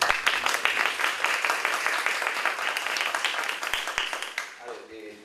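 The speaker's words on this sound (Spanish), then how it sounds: "Le recibimos un voto de aplauso" Applause from a university audience welcoming a guest lecturer, dense rapid clapping of many hands holding steady, then thinning and fading at the end as a voice begins to speak.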